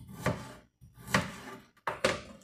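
A kitchen knife chops food on a cutting board in three quick, close bursts of crisp knocks separated by brief pauses, fairly soft and with no talking.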